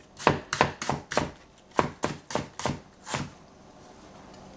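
Knife chopping onion on a board while cooking cauliflower in miso sauce, about ten crisp, evenly spaced chops close by, quickening slightly then stopping, with no talk.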